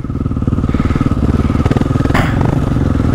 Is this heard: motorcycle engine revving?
yes